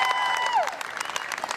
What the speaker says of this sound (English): A crowd of the family's supporters gathered outside the High Court.